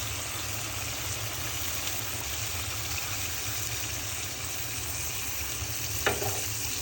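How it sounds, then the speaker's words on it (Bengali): Katla fish curry simmering in a pan after water is added, giving a steady, even hiss and bubbling sizzle with a low hum underneath and one brief clink near the end. "এখন আমি জল দিয়ে দিব রান্না করার জন্য বন্ধুরা।"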